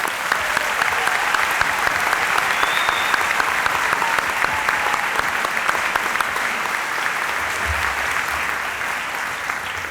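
Sustained applause from a large crowd honoring the class of 1969 at a Rutland High School graduation ceremony, dense and even clapping that carries on without a break.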